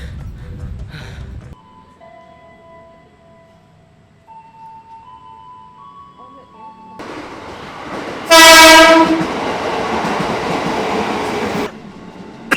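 At Tebet station at night, a low rumble gives way to a loud passing train with a blaring horn, then a sustained roar of cars rolling by.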